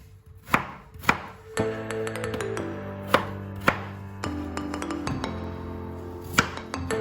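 A knife cuts potatoes into pieces, giving several sharp, separate thuds on a board spaced about a second apart, close, over a quiet sustained tonal background, with no talking.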